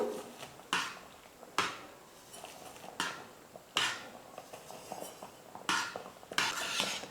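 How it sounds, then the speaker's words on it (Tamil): A ladle scrapes and clinks around a pan of thickening rava kesari, five or six soft metallic strokes at a steady, unhurried pace, close and quiet. "கொஞ்சம் கொஞ்சமாக சேர்த்து இப்படி கரண்டி வச்சு கலந்து கொடுங்க."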